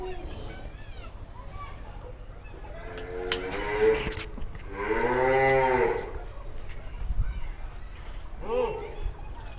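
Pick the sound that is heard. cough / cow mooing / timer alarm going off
cow mooing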